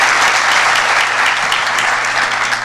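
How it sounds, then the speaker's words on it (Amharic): Congregation clapping at a Sunday school graduation service in a church, a dense, steady roar of many hands that stays loud and close for the whole span with no voices over it. "እንደገና አጨብጭቡላቸው እስቲ"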